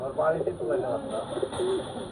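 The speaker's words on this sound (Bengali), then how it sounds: "গিরিবাজ কবুতর চোখটা দেখেন" A Giribaz pigeon coos close by in soft, low, rolling phrases that repeat through the moment, while someone talks over the calls.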